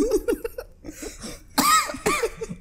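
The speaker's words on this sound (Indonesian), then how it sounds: "Batuk." A person coughs several times in short raspy bursts, with two louder harsh coughs near the end, heard close up and alone.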